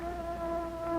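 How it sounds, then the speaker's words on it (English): A steady, droning swarm of bees buzzes as a radio comedy sound effect, with a continuous nasal hum at an even loudness for a brief moment and no talk over it. "Look at all the bees in here."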